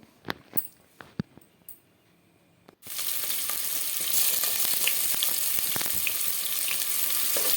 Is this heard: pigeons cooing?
no